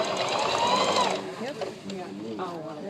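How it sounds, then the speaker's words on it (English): A Singer sewing machine stitching through a thick seam of nine folded fabric layers, its fast mechanical whir loud for about a second before dropping away as someone talks. "And this will sew right up over the seam."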